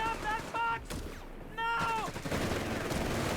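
Bursts of MG42 machine gun fire in Company of Heroes 3, rapid crackling volleys broken by brief pauses, with a game announcer talking over the battle.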